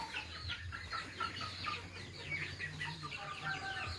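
Chickens clucking in a simple coop roofed with plastic, with soft, steady chatter from several birds close by over a low background hum.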